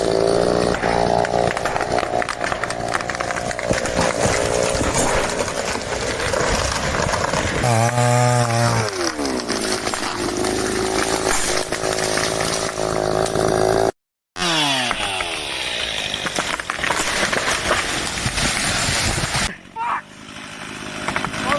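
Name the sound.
Hud-son Patriot sawmill running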